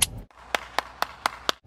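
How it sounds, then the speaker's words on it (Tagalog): A small group claps in a slow, even rhythm, six crisp separate claps close by at a mall festival event, after a brief muffled burst at the start and with no talking over it. "Isa naman palakpak dyan."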